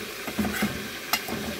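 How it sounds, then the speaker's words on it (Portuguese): Seasoned flour (farinha temperada) toasting in a pan as it is stirred, a soft dry sizzle with scraping strokes of the spoon and one sharp scrape near the end. "Conforme você vai mexendo aqui, ela vai queimando, ela vai dourando"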